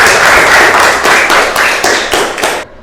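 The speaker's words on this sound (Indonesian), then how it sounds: "Tepuk tangan dulu untuk kelas kita." A classroom full of students claps together in loud, close, rhythmic bursts of hand claps that keep a steady beat, then stop abruptly at the end.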